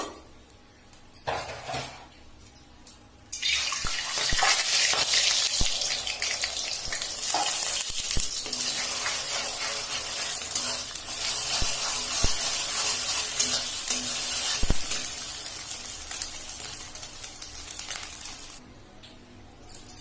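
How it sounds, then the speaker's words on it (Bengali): Egg hits hot oil in a wok and sizzles loudly for most of the stretch, with clinks of a utensil against the pan. "এবার আমি তেল দিয়ে দিয়েছি কড়াইয়ে। এখন ডিমটা আগে দিয়ে দিব।"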